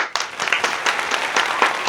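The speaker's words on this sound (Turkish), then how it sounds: "Alkışlıyoruz arkadaşımızı." A short burst of dense, steady hand clapping from a small group celebrating the winner of a home guessing-box challenge, close and fairly loud with no talking over it.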